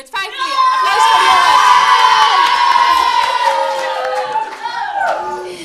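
A crowd of children on a school playground cheers and shouts loudly together, a sustained high-pitched roar with some clapping that tapers off near the end.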